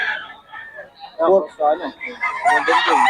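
A young gamecock stag crows close by on a Filipino gamefowl farm, a short rising and falling call that follows a few softer clucks, with someone talking around it.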